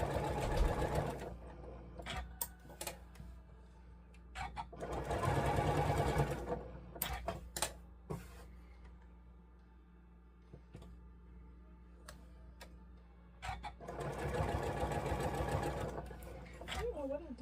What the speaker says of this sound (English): And we're going to sew those on each of our little brown squares.